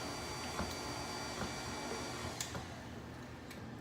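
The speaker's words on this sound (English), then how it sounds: "We're going to turn the mixer on low." Electric stand mixer running on low speed while powdered sugar is mixed into oatmeal creme pie filling, a steady even motor hum throughout with faint occasional clicks and no talking.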